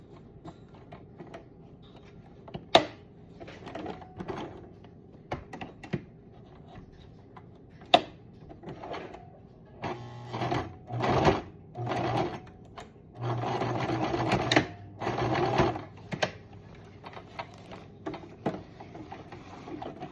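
A sewing machine stitching a pet's costume, leg wraps for a powwow dance, runs in short bursts and then longer stretches of fast mechanical whirring and clacking, close and alone with quiet pauses between runs.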